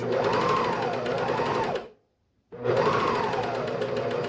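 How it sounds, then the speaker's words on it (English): A serger sewing machine stitches off a doll-clothes seam in two loud, steady runs, stopping briefly for a moment of silence before starting up again. "I just push everything to the side and serge off"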